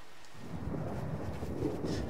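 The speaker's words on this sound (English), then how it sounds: "It's still raining out. It's still nasty." Steady rain with a low thunder rumble plays in the game The Sims 3, forming a continuous, fairly quiet wash of downpour noise that holds evenly throughout with no speech.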